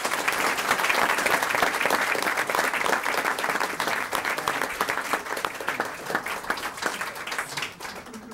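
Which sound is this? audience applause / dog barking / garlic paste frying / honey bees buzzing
audience applause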